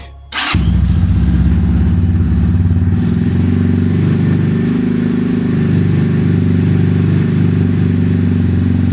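A 250cc motorcycle bought online fires up after a brief crank and settles into a loud, steady idle that rumbles close by for the rest of the stretch.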